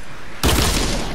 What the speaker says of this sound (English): I'm just shooting rockets at him.